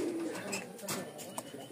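Giribaz pigeons coo softly in a short burst, with a person talking over the birds.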